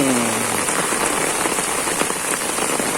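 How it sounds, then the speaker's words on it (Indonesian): Heavy, steady rain pours down on a flooded village yard after falling all night, a dense continuous hiss with scattered close drops spattering on water and surfaces, no voices. "Hujan dari semalam sampai sekarang belum reda."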